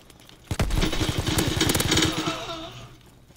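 Rapid automatic fire from a video game gun, a dense burst of evenly spaced shots lasting about a second and a half, loud and close, then tailing off into game noise.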